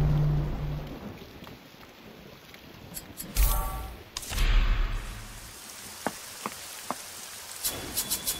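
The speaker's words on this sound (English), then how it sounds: "Looks like a storm's brewing." Thunder rumbles during a brewing storm in the Sweeney Todd video game, with two loud, heavy rolls in the middle over a steady hiss of rain and a few sharp drip-like ticks toward the end.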